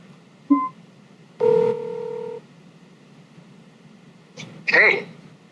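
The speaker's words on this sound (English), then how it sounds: "Of course, you can make a phone call." Telephone keypad tones from a phone placing a call, a short beep, then a longer two-tone press, and after a pause a brief burst of further beeps.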